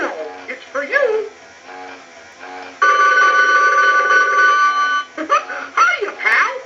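A buzzing electronic ring from a Mickey Mouse animated telephone toy sounds for about two seconds between stretches of a cartoon character voice, loud and close, with voiced chatter before and after.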